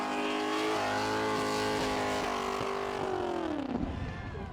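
A car engine revving hard at a burnout competition, a loud sustained high-rpm howl with steady harmonic drone that sags in pitch near the end as tyre noise rises.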